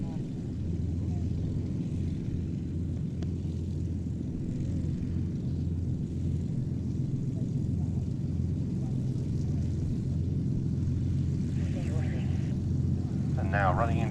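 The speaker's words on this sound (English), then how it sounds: "we have our formation of 3 North American P-51D Mustangs led by a 2-seat dual-control TF-51D variant" Formation of three North American P-51D Mustangs, led by a two-seat dual-control TF-51D, running in at the Duxford Battle of Britain airshow; a steady low propeller-engine drone throughout, fairly distant, with a commentator talking over it.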